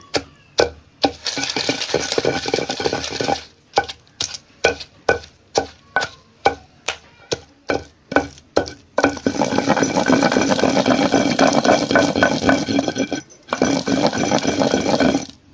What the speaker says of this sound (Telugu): అలా రోళ్ళు వేసుకొని దంచుకోవాలి.